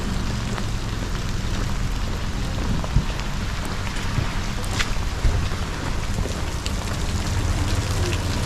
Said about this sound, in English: It is raining. It has been raining all day.